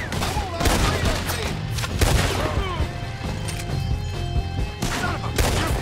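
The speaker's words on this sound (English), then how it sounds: "We'll have to shoot our way out." Rapid gunfire in a Red Dead Redemption 2 shootout, dense overlapping shots with sharp cracks and booms over a busy game soundscape, loud and continuous throughout with occasional heavier blasts.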